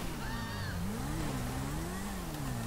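A car engine in the game Grand Theft Auto V revs and drones steadily while driving, its pitch swelling and dipping under constant road and wind roar, with no talk.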